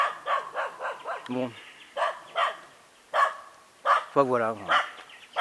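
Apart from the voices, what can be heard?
dog barking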